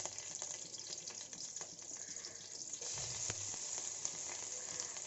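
Crushed ginger, garlic and green chili paste sautéing in a pan makes a steady, hissing sizzle, fairly quiet and close, with a few stirring scrapes.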